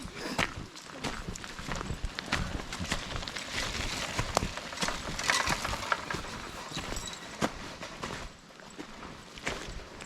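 Hooves clip-clop steadily as horses walk past on the Lissan House estate in County Tyrone, a busy run of hoof strikes over light outdoor background noise.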